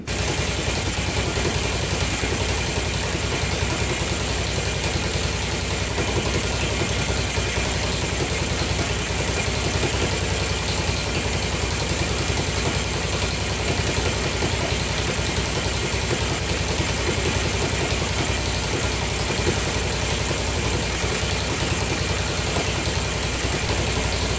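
A Yamaha XT 500 motorcycle engine idles steadily and loudly throughout, a continuous rough rumble with no voices.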